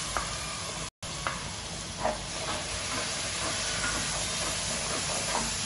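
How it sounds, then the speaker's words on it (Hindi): Tomato puree hitting a hot pan of fried onion, garlic and ginger, giving a loud, steady close-up sizzle and hiss that briefly cuts out once and then carries on. "अब इसमें हम टोमेटो प्यूरी डाल देंगे।"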